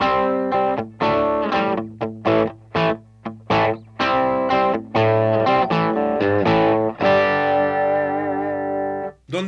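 An electric guitar through an amplifier with very slight distortion plays a run of sharp, separated notes, then a longer sustained chord ringing out before it cuts off.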